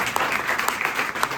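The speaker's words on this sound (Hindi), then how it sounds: "तालियां बहुत कम आ रही है और बहुत कम आ रही है।" Audience clapping at a Hare Krishna devotional gathering, a short steady patter of many hands at moderate loudness with no talk over it.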